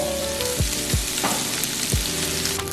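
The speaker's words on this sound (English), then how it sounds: "So at this point, the bacon is becoming crispy." Bacon frying until crisp in a pan for bangers and mash makes a loud, continuous sizzle nearby. A few short sweeping scrapes and knocks sound over it, and nobody speaks.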